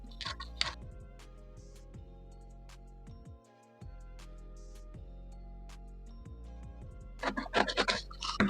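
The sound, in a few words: scissors cutting out a paper sewing pattern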